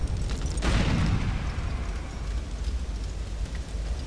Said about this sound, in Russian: Ой, сейчас еще будет взрываться.